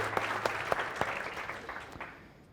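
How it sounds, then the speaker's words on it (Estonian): Applause from a conference audience, a dense wash of many hands clapping with a few sharper claps early on, steady at first and then fading out toward the end, with no talk over it. "Teeme aplausi ka Katrinile"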